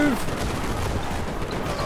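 Airship cannons fire in the steampunk strategy game Airships: Conquer the Skies, a continuous barrage of booming shots layered over the game's background sound, loud and close.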